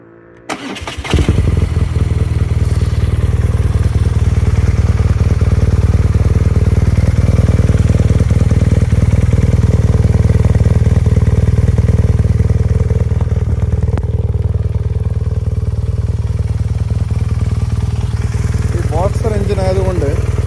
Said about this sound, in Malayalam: എൻജിൻ സ്റ്റാർട്ട് ചെയ്ത് വേണമെങ്കിൽ നമുക്ക് അതിൻ്റെ ശബ്ദം കേൾക്കാം